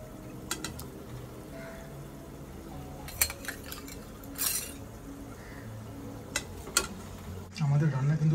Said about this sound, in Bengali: এবার এর মধ্যে আমরা মাছ অ্যাড করে দেবো।